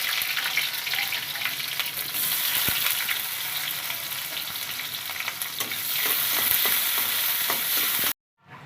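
Onions and crushed garlic frying in oil for a crab curry, a steady loud sizzle with occasional stirring scrapes, then cutting off abruptly near the end.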